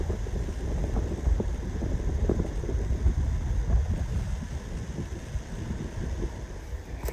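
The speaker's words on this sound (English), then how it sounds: "Sorry about the wind, guys. I don't have my mics in" Wind buffeting an uncovered microphone outdoors during post-season deer scouting in Ohio, a steady low rumble with gusty swells that holds for the whole stretch, with no talking.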